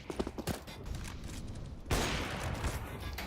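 Pistols fire in a competitive esports match, with rapid, sharp shots cracking in quick bursts and a heavier barrage midway, all fairly faint under the game's ambience.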